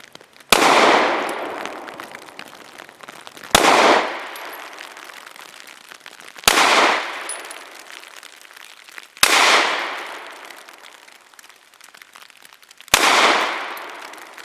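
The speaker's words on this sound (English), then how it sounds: "5 shots from 7 yards using Nosler 115 grain match." Five loud, evenly spaced shots from a Remington R51 pistol firing Nosler 115 grain match rounds outdoors, each sharp crack followed by a long rolling echo, about three seconds apart.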